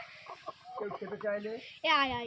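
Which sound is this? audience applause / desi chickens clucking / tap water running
desi chickens clucking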